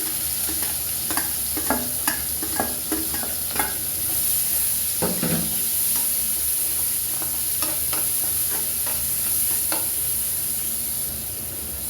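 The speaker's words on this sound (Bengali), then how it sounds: "সেই গরম তেলে ঢেলে দিলাম আমি আমার অনিয়ন।" Chopped onions sizzle steadily in hot oil in a pan used just before for frying prawns, with a spoon clinking and stirring through them at close range and no talking.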